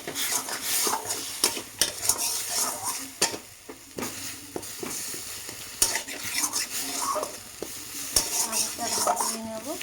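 Spices and tomato paste sizzle in hot oil for a spicy potato and soya chunk curry, stirred steadily with a utensil scraping and clattering against the pan, close and continuous with no talk.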